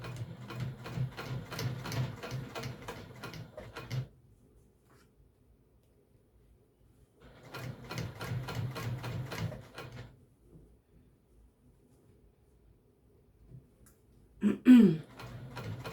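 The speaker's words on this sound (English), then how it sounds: "and then sew it down onto the skirt. Here's where the jeans needle is pretty helpful." A sewing machine with a jeans needle stitches an apron onto a skirt through thick layers in two runs of rapid, even needle clatter separated by quiet pauses, close and clear, with a brief knock near the end.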